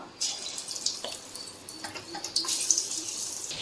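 Water being drained off cooked rice for a street-style mushroom fried rice, a steady pouring and splashing stream with a few brief drips, close and fairly quiet with no talk.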